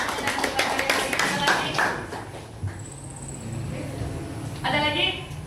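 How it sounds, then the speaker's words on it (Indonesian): A classroom of students claps hands in short bursts, loud rhythmic clapping at the start, then quieter stretches with a brief later flurry, while a voice talks over parts of it. "Oke, tepuk tangan."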